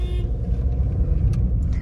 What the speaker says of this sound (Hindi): तो अभी फिलहाल तो गाड़ी चला रहा हूँ